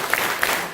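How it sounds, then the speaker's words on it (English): An audience claps together in unison, with two sharp, crisp claps standing out over a murmuring room of people at a gathering. "Let's give that 4 claps."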